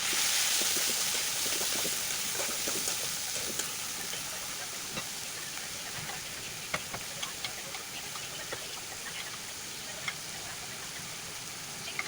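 Crushed onion, garlic and green chili fry in hot oil for bitter gourd kala bhuna, a steady broad sizzle that fades slightly after the first seconds, dotted with small sharp pops and crackles.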